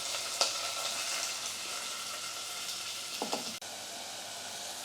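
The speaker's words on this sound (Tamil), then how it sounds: "பூண்டு, வெங்காயம், இது எல்லாமே கொஞ்சம் கோல்டனாக வதங்கட்டும்" Green chilies, garlic and onion fry in oil inside a pressure cooker, giving a soft, steady sizzle with a couple of brief stirring scrapes, heard close but fairly quiet and without talk.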